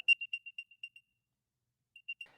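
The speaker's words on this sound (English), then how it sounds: "My quilt is beeping because there is an AirTag hidden in this corner of my quilt" An AirTag hidden in the corner of a quilt emits a series of thin, high, evenly spaced beeps that fade out, then after a pause two or three more beeps return, faint and muffled by the fabric.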